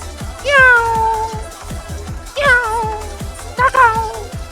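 A house cat meows three times, each a clear drawn-out call, over rapid rhythmic clicking and muffled background sounds.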